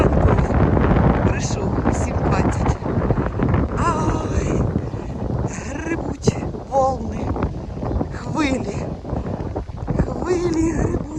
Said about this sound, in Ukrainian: Боже, вітер дує, з неба вже ляпає.